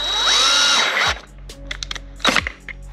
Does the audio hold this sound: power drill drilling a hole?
yes